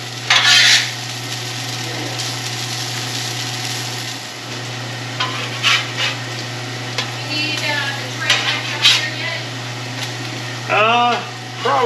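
Potatoes frying in a pan, a steady sizzle with a constant low hum beneath and occasional stirring scrapes, while a person talks intermittently.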